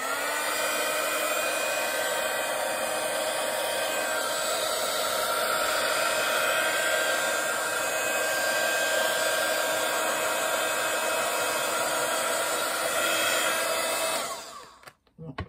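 A hair dryer blows steadily on a wet foam craft piece, a loud, unbroken airy roar that holds for about fourteen seconds before it is switched off abruptly.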